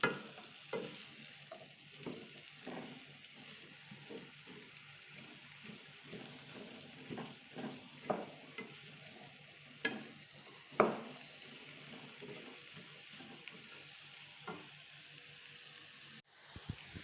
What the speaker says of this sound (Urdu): اس کو اچھی طرح بھون لیتے ہیں سبزی کو۔